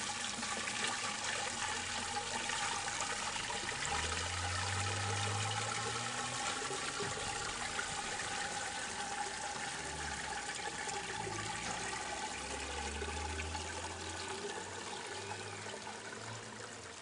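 Weed tea liquid poured through a plastic seed tray with holes in the bottom, a steady continuous splashing and trickling stream running for the whole stretch, close and fairly loud with no voices.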